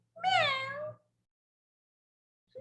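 A storyteller's voice imitates a cat with a single drawn-out, rising-then-falling meow, clear and close. Silence follows.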